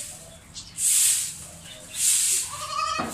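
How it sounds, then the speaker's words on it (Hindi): Two loud breathy hissing bursts, then a black, pregnant Beetal goat gives a short, nasal bleat close by near the end. "बीतल बकरी है"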